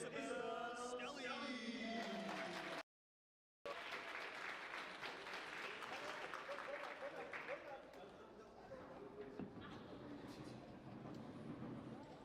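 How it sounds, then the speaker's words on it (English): Applause for the mixed doubles finalists at the 2025 Tornado World Series table tennis event, a steady wash of clapping from a large crowd that stops briefly and then resumes. The clapping fades slightly toward the end. "Please give a warm round of applause to Brandon Munoz and Isabel Stelly"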